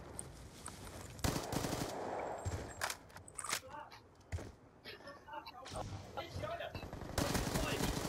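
Rapid automatic gunfire and single shots in Call of Duty: Black Ops 2 multiplayer, bursts at varying distances over quieter game ambience.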